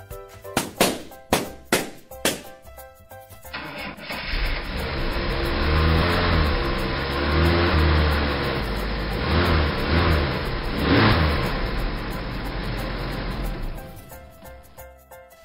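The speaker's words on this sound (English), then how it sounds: "Vintage car." After several short percussive hits, a vintage car's engine runs and revs in a low, rough rumble that rises and settles for about ten seconds.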